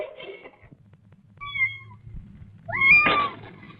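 A voice imitates a cat, giving a couple of drawn-out meows with pauses between, close and clear against near silence.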